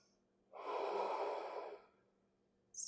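A single long, audible Ujjayi yoga breath, a soft throaty rushing exhale that swells and fades over about a second and a half. It is close and alone in a quiet room, with a faint hiss at the very end.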